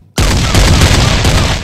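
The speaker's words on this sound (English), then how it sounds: "When we need to shoot off cannons" A thunderous volley of cannon fire in a comedy pirate sketch, one sustained, very loud blast that starts abruptly and rumbles on for over a second, with no voices.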